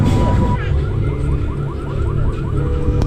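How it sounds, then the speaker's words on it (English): A car alarm sounds nearby at Universal Studios Hollywood, loud and continuous, with a fast repeating electronic warble cycling through its pattern over crowd noise. "Someone's car alarm's going off."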